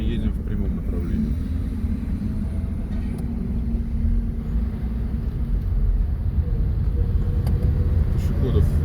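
Steady low rumble of a car cruising straight ahead during a driving lesson, engine and road noise continuous and close throughout.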